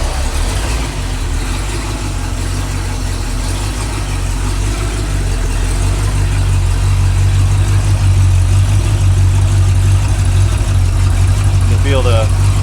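A rebuilt small block Ford V8 with a carburetor idles steadily at close range, a continuous low rumble throughout, with a brief higher chirp near the end.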